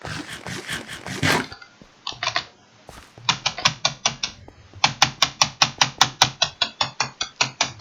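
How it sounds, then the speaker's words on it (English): Fingers type on a membrane computer keyboard close by, rapid soft key clicks in uneven bursts, then a steady run of evenly spaced heavier key presses. "it was a good keyboard for a membrane keyboard"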